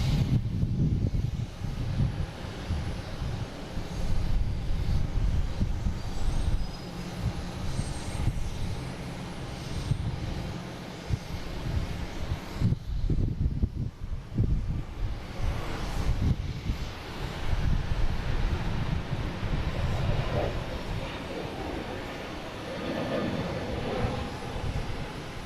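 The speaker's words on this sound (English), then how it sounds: "next taking off, we have a JetBlue heading to San Francisco, an A321neo" A JetBlue Airbus A321neo takes off from Boston Logan, its engines a sustained loud roar that holds across the whole stretch with a brief dip midway, heard from a distance outdoors with some wind, no talking.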